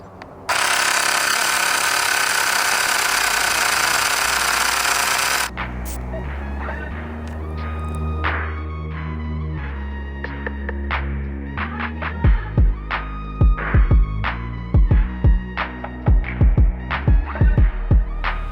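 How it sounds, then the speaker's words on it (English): A portable electric bike pump runs close by, starting with a loud burst of rushing hiss. A throbbing motor hum with a mechanical whine follows, then a series of rapid clicking pulses near the end, with no talking. "So here's the thing about that bike pump."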